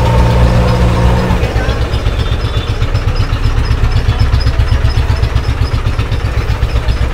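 A decorated Royal Enfield Bullet motorcycle idling nearby, loud and close, settling after a brief droning hum into a fast, even thump-thump engine pulse.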